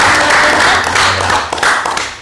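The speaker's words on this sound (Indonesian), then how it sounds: "mungkin bisa kita tepuk tangan" A small group claps for the team of a Catholic parish podcast, with loud, close, dense clapping that dips briefly near the end.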